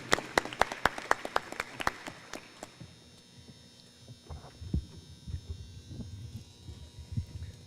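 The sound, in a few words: audience applause at mural unveiling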